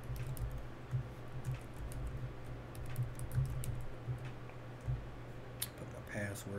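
Computer keyboard typing Gmail login details, a quick irregular run of close light key clicks and taps with brief pauses, steady throughout and ending in a few louder clacks.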